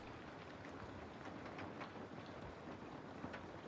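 Steady rain falls in an even, soft patter with a faint, continuous hiss and no pauses.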